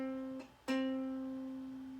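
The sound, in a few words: ukulele third string played open twice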